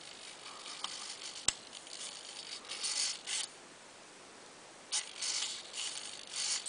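A link servo in an RC John Deere 9560R tractor lifts a butterfly mower, with a sharp tick followed by short bursts of whirring, ratcheting gear noise separated by quiet pauses.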